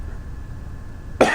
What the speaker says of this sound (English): excuse me, when I cough